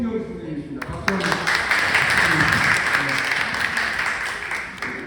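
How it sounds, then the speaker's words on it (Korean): Warm applause from the audience at a book talk event, starting with a sharp burst and holding steady for several seconds before tapering off. "박수 한번."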